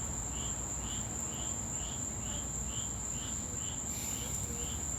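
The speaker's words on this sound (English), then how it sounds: "And that tree frog. There's more than one over there." Tree frogs call at night, a steady series of regular short chirps over a constant high insect drone, faint and evenly spaced with no talking.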